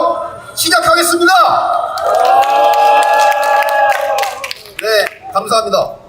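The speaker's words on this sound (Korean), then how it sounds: "동지들의 힘찬 박수와 함성으로 시작하겠습니다." At a construction workers' rally outside Anyang Station, a crowd claps, cheers and shouts for several seconds in a loud, sustained burst that fades out near the end.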